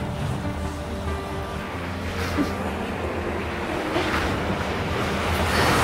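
Sea waves wash steadily against the shore, a continuous broad rush of surf with a light wind layer, fairly close and even throughout with no talk over it.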